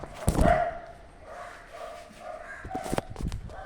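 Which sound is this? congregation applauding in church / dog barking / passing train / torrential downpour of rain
dog barking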